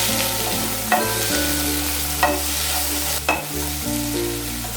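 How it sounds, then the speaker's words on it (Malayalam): Tomatoes and cashews sautéing in a pan for a mushroom capsicum butter masala, a steady loud sizzle with a constant low hum beneath and a few sharp spoon knocks, close up. "നല്ലപോലെ അതിൻ്റെ പച്ചമണം മാറുന്നവരെ ഒന്ന് നല്ലപോലെ സോട്ട് ചെയ്യാം"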